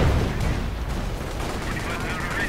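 Artillery shelling in the real-time strategy game Company of Heroes, a dense rumbling barrage of booms and blasts that runs continuously and loudly through the short stretch.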